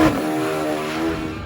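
A turbocharged Suzuki Hayabusa motorcycle engine runs in a drag-racing setting, giving a loud, close, steady droning roar with strong layered harmonics that hold throughout and ease slightly near the end.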